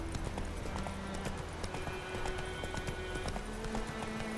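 Roach the horse from The Witcher 3 gallops in a steady, loud run of hoofbeats over the game's continuous music and ambience, with no voices.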